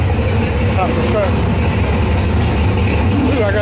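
A vehicle engine idles nearby with a steady low rumble, while people talk faintly over it.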